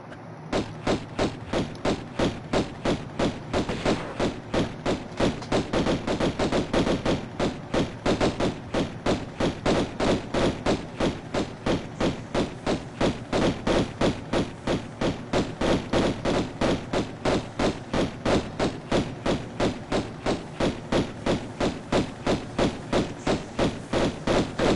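Pistols fire rapidly and steadily in the video game Tomb Raider I, with evenly spaced sharp shots repeating throughout. The gunfire is loud and dense, with no speech.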